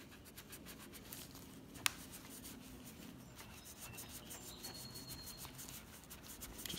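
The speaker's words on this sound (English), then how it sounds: "Just go in and out and make sure you polish it a little bit." Cloth rubbing Flitz metal polish onto a carburetor part, a faint, steady scrubbing with soft back-and-forth strokes and one sharp tick partway through, no talking.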